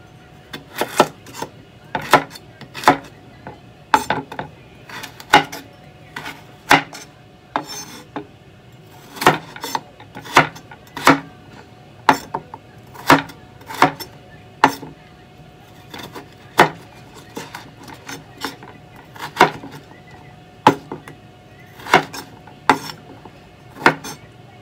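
A knife chops through chicken on a cutting board while a Danish-style baked chicken with vegetables is prepared, giving repeated sharp, close knocks in an irregular steady rhythm, about one every second, with faint talk in the background.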